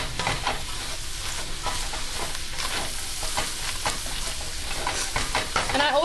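Garlic and onion sizzle hard in a hot pan for shepherd's pie, a steady loud broadband crackle with scattered stirring scrapes throughout and no talking.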